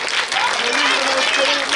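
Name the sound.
audience clapping at a school celebration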